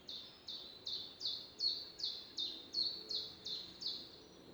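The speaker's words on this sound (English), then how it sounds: "That's a woodpecker." A woodpecker in spring woodland calls with a rapid, even series of about eleven sharp, high descending notes, fairly faint and distant against a quiet background.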